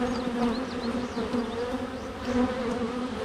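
Agitated honeybees buzz steadily at an open hive that may be queenless, a dense close drone with shifting pitch and individual bees whining past, no voices.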